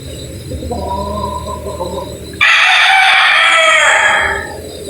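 A gray gamefowl rooster from a game farm lets out a loud, close crow that rises sharply and holds before fading, after a lower call and background hum.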